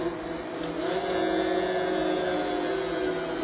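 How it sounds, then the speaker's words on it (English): A motorcycle engine revs high and steady in the racing video game Riding Spirits 2, a loud continuous whine with layered engine tones and no talking. "Okay, this bike is highly revving."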